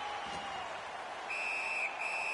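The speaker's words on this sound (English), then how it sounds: "And freezes play for the whistle." Referee's whistle at an NHL hockey game between the Philadelphia Flyers and the Tampa Bay Lightning: a steady shrill blast that breaks briefly and resumes, over constant arena crowd murmur.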